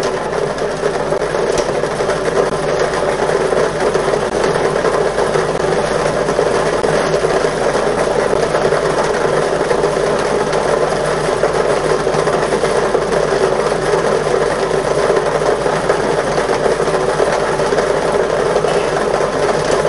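A lottery draw machine tumbles its balls in a steady, continuous mechanical whir and rattle, loud and unbroken throughout, with no voices.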